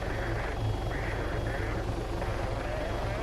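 A helicopter in the video game Arma 3 flies and hovers near a helipad, giving a steady, close rotor drone with rhythmic blade thumping throughout.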